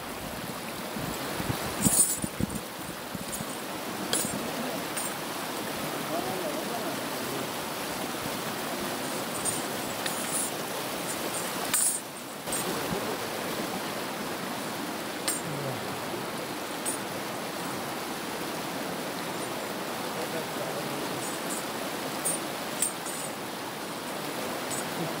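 Strong current of the Narmada River rushing past in a steady, loud broadband roar, continuous and unbroken throughout with no voices.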